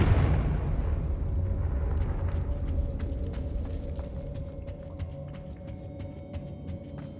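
A Confringo blasting-spell explosion in Hogwarts Legacy, a loud deep boom that opens the clip and fades into a long rolling rumble, followed by faint crackling debris.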